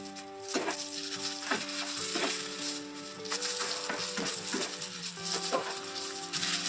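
Brinjal pieces frying with garlic and curry leaves for a brinjal curry: a steady sizzle with a few scraping stirs, heard over steady tonal background music, with no talk.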